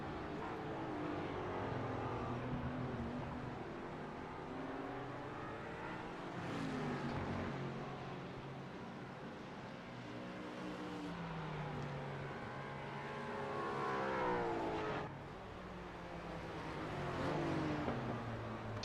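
Race cars on the Daytona road course whine past in rising and falling engine sweeps, several cars overlapping at a distance, faint throughout.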